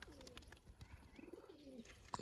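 Domestic pigeons coo softly in a low, wavering murmur, several overlapping calls heard faintly at a distance with a brief sharper chirp near the end.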